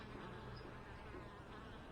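Honey bee foragers buzz continuously at a nuc hive entrance, a dense, close, droning hum with no pauses.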